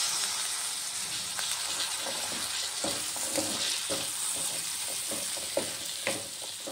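Boiled kabuli chana, cooked with turmeric and salt, go into a pan of frying masala and get stirred, giving a steady close sizzle with scraping and soft wet stirring knocks throughout.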